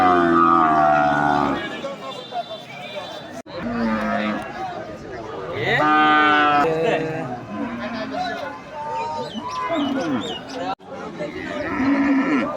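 Cattle at a village cattle market in Gopalganj, including Sindhi and Nepali breed cows and bulls, give several loud, drawn-out moos at intervals amid constant crowd chatter and nearby talk.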